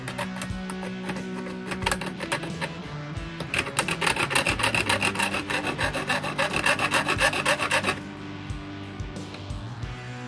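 A file rasps back and forth in a groove on a Warmoth Jazzmaster baritone guitar neck, with slow strokes building into a fast, steady series of close scraping strokes that stop abruptly, leaving a faint hum.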